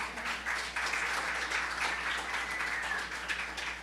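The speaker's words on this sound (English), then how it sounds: "filmmakers, give yourself a round of applause" A crowd applauds the filmmakers at the 2022 T&T Film Festival award ceremony, with dense, even clapping that holds steady from start to finish at moderate volume.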